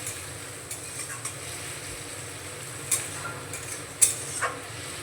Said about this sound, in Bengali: একটু নাড়িয়ে মিশিয়ে নেব।